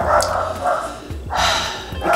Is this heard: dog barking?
yes